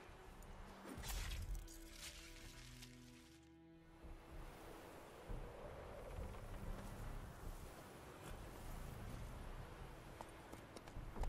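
Horse hooves clip-clopping in the video game The Witcher 3: Wild Hunt, a faint rhythmic trot mixed with surf-like wind noise, quiet and somewhat distant.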